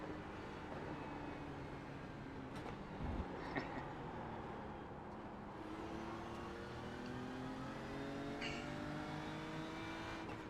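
A race car engine drones and shifts pitch in a racing video game during the 10 Hours of Suzuka, steady and fairly faint, with rising tones as the car accelerates.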